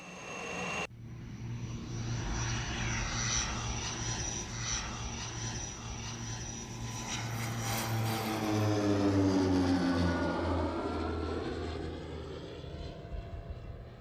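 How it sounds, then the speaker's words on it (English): A low-flying survey airplane droning steadily overhead, its engine tone swelling as it approaches and then shifting lower as it passes, loud and continuous with no voices. "The plane flies low and slow over the terrain to collect data."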